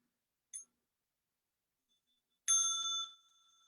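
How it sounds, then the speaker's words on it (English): A small meditation bell is rung: a faint short tap, then a bright ringing strike that sustains about half a second and fades into a soft lingering hum, alone in silence. "So now I'm going to invite the small bell for stretching and massage."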